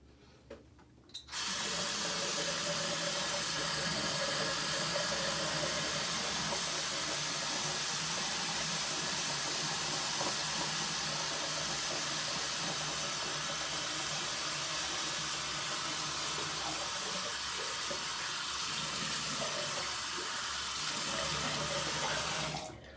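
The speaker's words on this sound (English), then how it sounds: "splash some water on my face, and we will go from there" A bathroom tap runs in a strong, steady stream for about twenty seconds while water is splashed on the face before a coconut-oil shave. The flow starts abruptly and stops at the very end.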